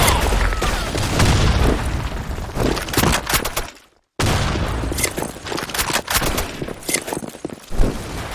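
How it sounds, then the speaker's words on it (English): Video game firefight with a grenade explosion and gunfire, dense bursts of shots and booms, close and loud, with a brief silent gap midway. "Fire in the hole! Grenade!"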